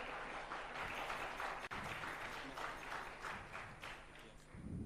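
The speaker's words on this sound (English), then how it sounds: "A clap to Rose." Applause from the audience at a Toastmasters East Africa conference rises as a steady, moderately loud wash of clapping that carries on throughout without a break.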